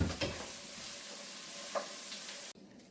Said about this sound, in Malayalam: ഈ എണ്ണയിൽ തന്നെയാണ് ഈ സവാള വഴറ്റുന്നത്